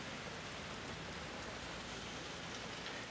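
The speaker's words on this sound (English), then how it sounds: "Except the rain." Rain falls steadily in Mexico City during a constant weekend downpour, a dense even hiss of drops with no voices.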